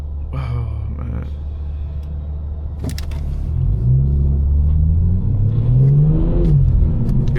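A BMW M4 Competition's engine and intake rise from a low idle rumble into a loud, swelling rev heard from inside the car, the pitch climbing and falling as it accelerates.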